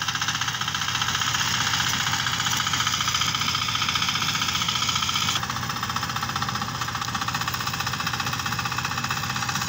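A small mini power tiller engine runs at a steady idle, with an even, mid-pitched mechanical chugging and rattling vibration throughout and no talking.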